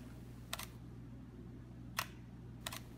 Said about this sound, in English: Now hit your shutter button and your time lapse will start.